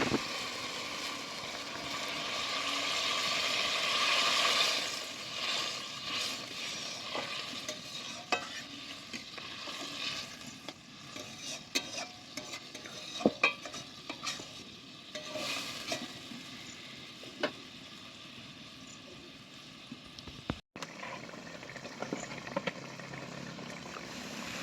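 Egg masala curry simmering in a pan after a little water is added, a steady soft bubbling sizzle with occasional spoon scrapes and taps while stirring, fairly quiet and close, no talking.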